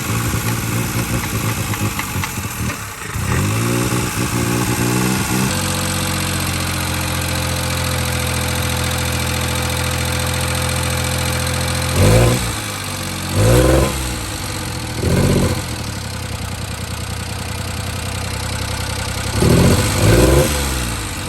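A mini truck engine running on two-stroke oil idles steadily and loud, with a brief stutter early on and several short revs rising and falling in the latter half.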